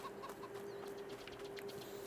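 Chickens clucking softly in the video game Farming Simulator amid a steady low electronic tone, with scattered short clucks and chirps throughout.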